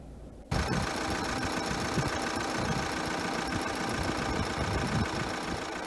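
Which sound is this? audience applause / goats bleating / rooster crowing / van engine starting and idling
van engine starting and idling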